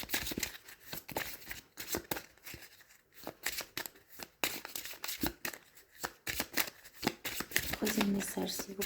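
Tarot cards shuffled close by in quick, continuous riffling and rubbing, with a dense run of crisp papery flicks and a voice heard at times.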